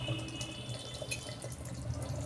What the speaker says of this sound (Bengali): পুরো জলটাই আমি দিয়ে দিচ্ছি